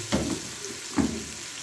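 Kofta made with bulgur frying in a pan: a steady soft sizzle with two brief louder spits or shakes about a second apart.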